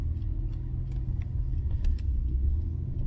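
A Mitsubishi Diamante 25V driving along, with a steady low engine and road rumble heard from inside the cabin, smooth and continuous, with faint light clicks above it.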